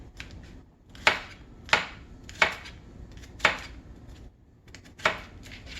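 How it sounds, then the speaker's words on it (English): A kitchen knife chopping and mincing garlic on a cutting board: sharp, distinct knocks spaced roughly half a second to a second apart, close and clear, with no speech. "So now I'm gonna mince the garlic."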